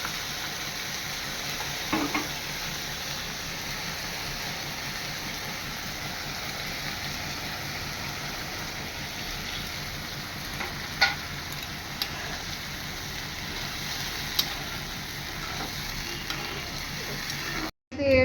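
Goat liver frying in a pan with spices, a steady soft sizzle running throughout with a few light stirring clinks and scrapes, and brief faint background sounds.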